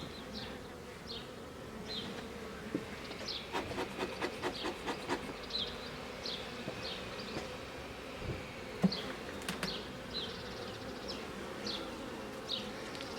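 Honey bees buzz around a hive frame during a beekeeping inspection, soft scattered buzzing passes from individual bees flying close by, with faint rubbing and light wooden knocks of the frame.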